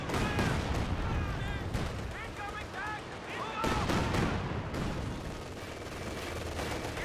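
Rapid rocket barrage from Soviet Katyusha launchers in the strategy game Company of Heroes 2, a dense continuous roar of launches and explosions with whooshing streaks, loud and sustained across the scene, mixed with other battle noise.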